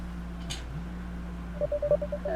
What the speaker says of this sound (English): My phone vibrates in my pocket.